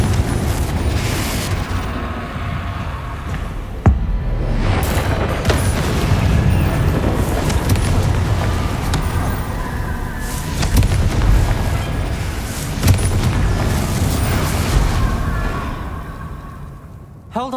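Confringo fire spells blast repeatedly during a Hogwarts Legacy fight against Inferi, loud booming bursts layered over a dense, continuous rumble of game music and effects, with a voice heard in the mix.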